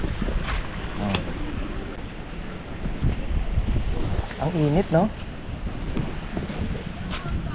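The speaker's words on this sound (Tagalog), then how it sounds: "Ayun na yung dagat." Sea waves and gusting wind along the shore in Coron, Palawan, near a saltwater hot spring, a steady rough wash with people talking close by throughout.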